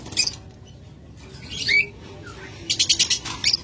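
A green opaline budgerigar pair in a cage gives short bursts of high chirps, a quick flurry of rapid tweets near the end, fairly close and moderately faint.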